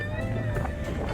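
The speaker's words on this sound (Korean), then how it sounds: "여기도 바람이 어마어마하네요" Strong wind sweeps across a rooftop bar in Bangkok at sunset, a constant close rush buffeting the microphone, with a voice partly buried beneath it.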